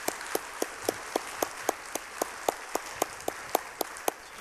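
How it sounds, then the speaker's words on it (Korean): A church congregation gives a welcoming round of applause to a visiting pastor and his wife at a Wednesday service, heard as fairly faint, loose clapping with sharp, evenly spaced claps standing out in a regular rhythm. "우리 뜨거운 박수로 환영하겠습니다"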